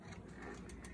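A noisy dishwasher with a suspected faulty pulley underneath makes a steady mechanical whirring and rattling clatter, close up and continuous, with no talking.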